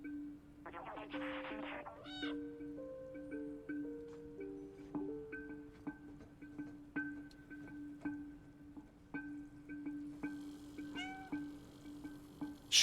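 A stray cat meowing in the video game Stray, a series of short plaintive meows over a steady electronic hum, with soft dripping ticks in the background.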